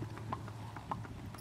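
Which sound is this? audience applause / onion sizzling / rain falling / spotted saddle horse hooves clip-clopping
spotted saddle horse hooves clip-clopping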